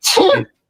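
A single loud, close sneeze bursts out sharply and fades within half a second, standing alone with no talk over it.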